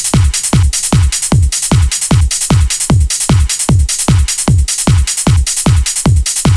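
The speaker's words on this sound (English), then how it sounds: "here's one of the variations where I just moved one of the kicks around" A house drum loop in a PS1-era Wipeout style, with punchy kicks in a steady four-on-the-floor pattern and one kick moved, over bright continuous hats and percussion, loud and looping without pause.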